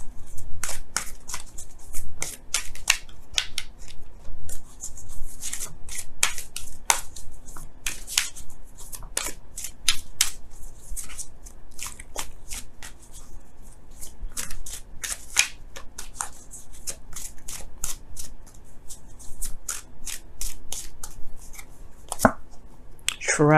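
Romance Angels tarot cards being shuffled by hand, a dense run of crisp riffling snaps and flicks repeating steadily for the whole stretch, close and fairly loud with no talking.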